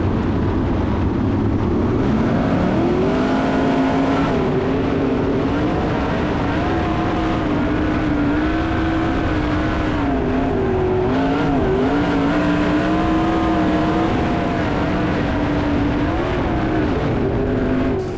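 Sprint cars race wheel to wheel at the Knoxville Nationals dirt track, a loud, steady engine roar with rising and falling harmonic pitch as cars dive low into the turns and fight for position.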